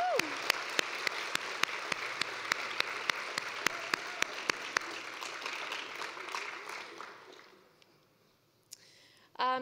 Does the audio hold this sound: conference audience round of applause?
yes